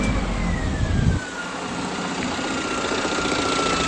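A Toyota Etios ex-taxi engine with a vibration fault, heard up close as it starts and settles into a steady idle, a low rumble that quiets after the first second and hums on evenly.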